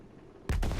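Gunfire in the video game Battlefield 1: one abrupt, loud blast hits after half a second of quiet background, followed by a quick second report that blurs into a booming tail.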